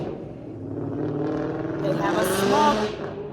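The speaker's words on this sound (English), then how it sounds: "Also some car is revving very loud" A car engine revs loudly in the distance, swelling and rising in pitch, with voices talking over it throughout.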